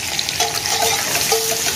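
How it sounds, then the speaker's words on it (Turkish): Chopped carrots and onion sizzle steadily in hot oil in a pan, a dense, loud frying hiss with a few brief stirring scrapes and no talk. "Soğanla beraber havucumuzu atıyoruz."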